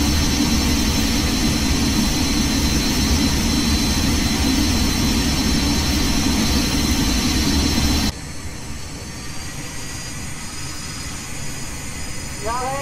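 Embraer Phenom 100 jet engines roar at takeoff power in the X-Plane 11 flight simulator, a loud continuous broadband rush with a whining tone that drops abruptly to a quieter steady drone partway through.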